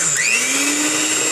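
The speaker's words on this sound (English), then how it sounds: "let's go ahead and turn the blender on again until it turns into whipped cream" A blender runs steadily at high speed, whipping cream flavored with vanilla extract into whipped cream, a loud continuous motor whine with no talking over it.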